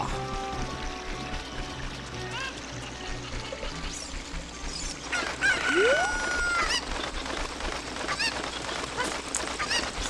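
A chicken in the video game Zelda Ocarina of Time squawks and clucks in a sharp cry over continuous game background music and sound effects.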